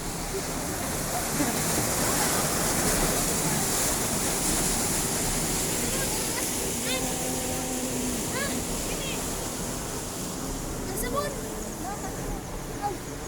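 Water rushes loudly and continuously over a dam on the Talakag River, a constant roar with faint voices and small sounds mixed underneath.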